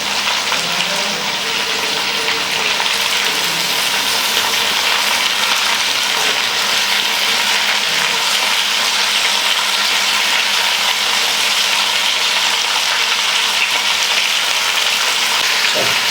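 Tomatoes fry in a chicken karahi, giving a steady, loud, bubbling sizzle that runs evenly for around sixteen seconds, with no talk over it.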